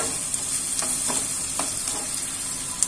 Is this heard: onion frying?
yes